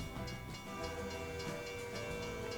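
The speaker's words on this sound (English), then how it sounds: "I nearly pushed him into a train. A freight train." A freight train in the American Truck Simulator video game rumbles past at moderate distance, a steady dense roar with faint rhythmic clatter, no talk.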